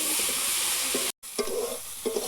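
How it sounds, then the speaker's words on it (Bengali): Taro and potatoes with tomato being sautéed in a pan, a loud continuous sizzle broken by a brief silent gap, with intermittent scraping strokes of a spatula stirring the vegetables. "এভাবে কষিয়ে নিতে হবে।"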